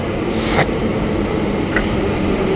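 A metro train pulls into the station platform, a steady broad rumble and rush of rolling stock filling the space, with a brief brighter hiss and a second short burst as it approaches.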